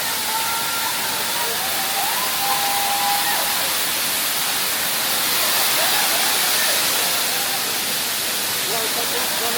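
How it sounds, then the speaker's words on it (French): A small waterfall on a hiking trail in Bali gives a steady, loud broadband rush of falling water, with a voice talking and faint birdsong or whistles on top. "Et là, donc il y a une toute petite cascade ici."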